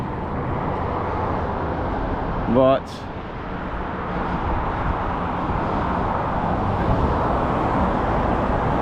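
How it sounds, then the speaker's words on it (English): Steady city road traffic rumbles through central Moscow on a rainy day, a loud broadband wash of passing cars with one brief louder pass, while someone talks over it near the microphone. "Hopefully you can hear me over the traffic. The traffic's quite loud"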